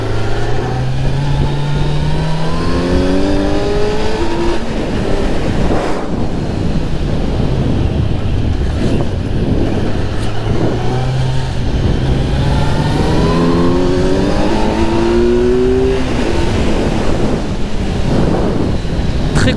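Kawasaki Z900 motorcycle ridden through a neighbourhood in Trappes, engine revving up and easing off through gears with rising and falling tones under heavy wind rush, loud and close throughout.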